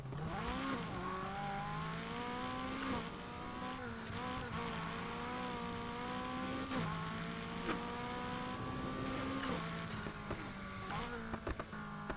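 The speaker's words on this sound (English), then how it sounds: "Sounds like a V6 engine, which is probably what's in here." A V6 car engine revving in the racing game Need for Speed Heat, a continuous loud drone with pitch climbing and dropping through gear shifts, filling the whole stretch under faint background sound.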